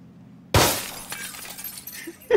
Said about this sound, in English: Look at these dudes crashing their car.